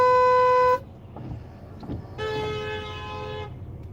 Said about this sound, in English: They honked at me because I moved forward.